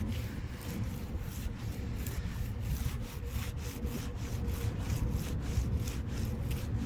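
Continuous rhythmic rubbing against car paint, each stroke carrying a faint gritty scratch from grit particles, close and steady throughout.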